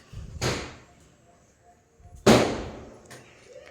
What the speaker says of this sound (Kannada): ಆವಾಗಲಿಂದನೂ ಪಟಾಕಿ ಸೌಂಡ್ ಬರ್ತಾನೆ ಇತ್ತು